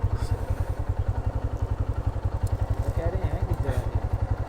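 A Honda CB150F motorcycle engine idles with a rapid, steady low thumping pulse on a roadside checkpoint route toward Ganga Peak in Kashmir, close and loud, while people talk over it.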